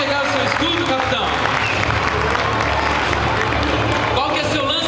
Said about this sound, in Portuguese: salve de palmas esse Capitão América